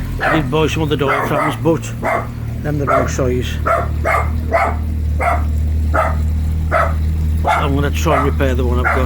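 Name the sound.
dog barking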